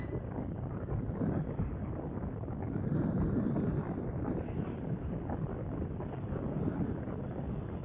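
A Moto Morini Seiemmezzo 650 scrambler, a 60 hp 650 twin, held at full throttle in sixth gear from about 80 km/h, heard as a dense, steady roar blended with heavy wind rush, continuous and loud throughout.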